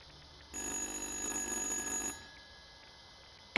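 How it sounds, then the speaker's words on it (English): A telephone rings in the horror video game Little Hope, one steady electronic ring lasting about a second and a half before cutting off, followed by quiet. "Answer the goddamn phone!"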